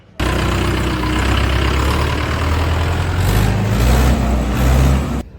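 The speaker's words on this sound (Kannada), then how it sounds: "ಇವು 4 ಸಿಲಿಂಡರ್ ಟ್ರ್ಯಾಕ್ಟರ್ ಆಗಿದೆ ಮತ್ತು ಇದು ELS ಇಂಜನ್." A Mahindra four-cylinder tractor with an ELS engine runs at a steady idle close by, a low chugging drone holding even throughout with small surges in level.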